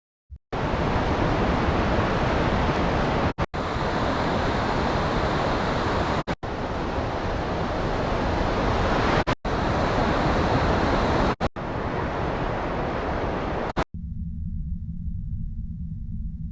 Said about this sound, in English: let's listen to section A wind and then the extra prompt wind